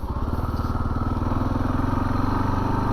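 A 2022 Kawasaki KLR 650 single-cylinder engine pulls up a hill in second gear, a loud close rhythmic thumping exhaust beat held steady throughout, no voices.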